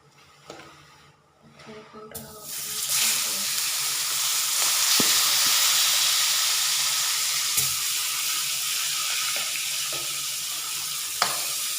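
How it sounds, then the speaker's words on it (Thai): Mackerel drops into hot oil in a pan and sets off a loud, steady sizzle that swells after a short quiet start and keeps crackling close to the microphone, with a few small clinks of utensils. "น้ำมันเริ่มผดแล้วเนาะก็จะเอาปลาทูลงเลยก่อน"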